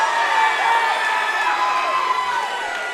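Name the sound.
crowd cheering at MMA fight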